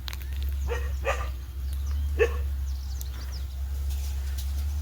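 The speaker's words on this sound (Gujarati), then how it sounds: "કૂતરા બાજે છે." Several dogs bark in short, scattered bursts at a moderate distance over a steady low hum, with faint birds in the background.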